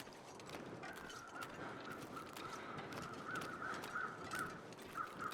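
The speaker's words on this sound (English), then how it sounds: "the crows seem to be circling a fresh kill" Crows cawing in The Long Dark survival game, a string of repeated caws that sound moderately distant over a low ambient wind bed, with no talking.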